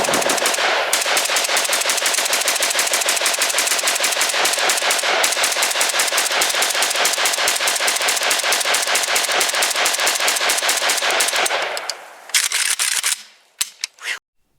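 An RPK light machine gun fires 7.62x39 rounds in long, rapid sustained bursts, loud and close, the rattling stream running unbroken for about twelve seconds before a few shorter bursts and then silence.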